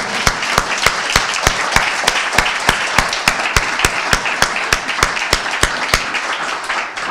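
Audience applause at a city tenth-anniversary event, dense and sustained, with one person's sharp, loud, evenly spaced claps standing out close by over the crowd.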